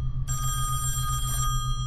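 A telephone rings in the horror video game Song of Horror, a steady electronic bell trill that runs nearly two seconds over a low, droning ambient hum, clear and close with no talking.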